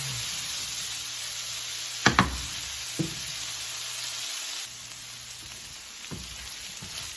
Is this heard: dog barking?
no